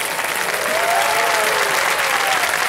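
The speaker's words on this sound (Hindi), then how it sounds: "नाम सुनते ही बहुत सारी तालियां बज गई" A television quiz-show studio audience breaks into steady, dense applause, many hands clapping continuously at full loudness for a few seconds.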